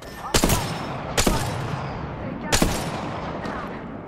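Video game gunfire in Apex Legends on PS4: several loud, sharp bursts of shots, close and punchy, spaced about a second apart, each trailing into a brief echoing decay over ambient game noise.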